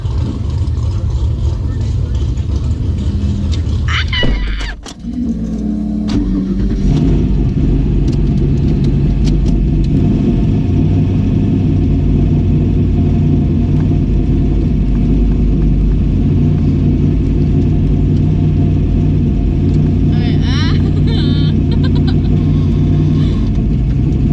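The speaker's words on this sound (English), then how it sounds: "So that's the burnout." A turbocharged 2002 Chevrolet S-10 pickup roars in a long loud burnout, engine droning heavily with steady low rumble after a sharp rev, heard from inside the cab as occupants talk and shout.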